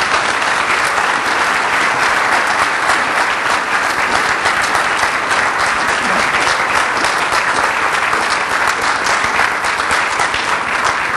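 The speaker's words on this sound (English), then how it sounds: "Would you join me in giving a wonderful Cape Cod welcome to Justice Ann Burke?" Loud, sustained applause from a large crowd, steady clapping throughout with no voices standing out.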